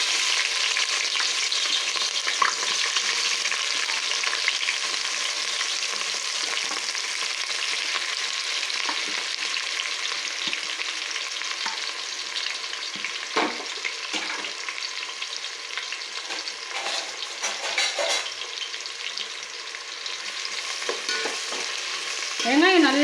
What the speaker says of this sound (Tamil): அது நல்லா பொரிஞ்சு வந்தவொடனே வெங்காயம் சேர்த்துக்கலாம்.